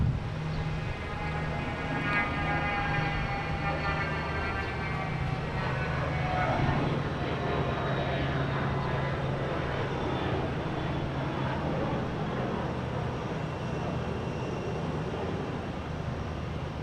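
Airliner engines roar steadily at Boston Logan International Airport, a loud continuous jet drone with whining harmonic tones rising and shifting throughout, heard at moderate distance with no speech.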